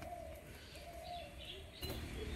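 Soft, low cooing of a young pair of green Giribaz pigeons, a few drawn-out murmurs, faint and close, with a brief rustle near the end.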